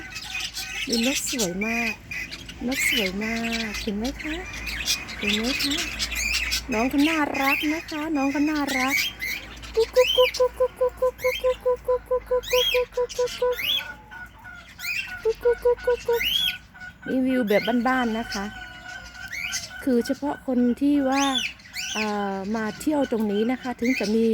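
Chickens at a small zoo beside an apartment cluck and squawk in repeated bursts, one bird giving a rapid run of clucks, while someone talks over them close by throughout.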